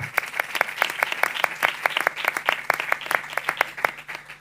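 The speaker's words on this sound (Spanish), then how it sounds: "pido un fuerte aplauso para Francisco." Audience at an international congress on education and flamenco breaks into steady, sustained applause, the claps dense and even for several seconds with no voices over it.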